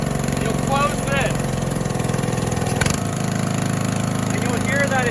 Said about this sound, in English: And you'll hear that it revs up. The RPMs go higher.